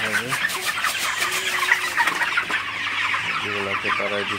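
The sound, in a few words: broiler chickens clucking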